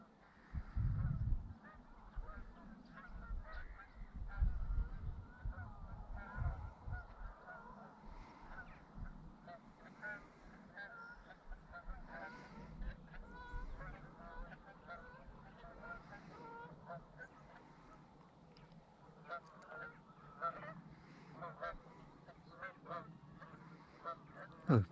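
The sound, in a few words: flock of Canada geese honking while flying over marshes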